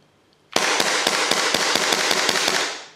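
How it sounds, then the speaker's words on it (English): A Tokyo Marui FN 5-7 airsoft pistol fires a rapid string of about ten sharp, evenly spaced shots, loud and close, with no talking. "let's try some rapid firing"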